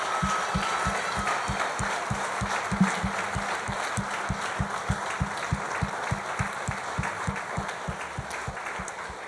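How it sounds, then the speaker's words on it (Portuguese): A church congregation applauds the Lord, a bright wash of many hands over a steady rhythmic low beat, likely a drum or bass pulse, keeping time underneath the sustained clapping. "Dê um aplauso ao Senhor."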